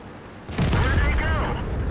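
A tank gun fires in World of Tanks, a single loud close boom with a low rumbling tail that lingers for over a second.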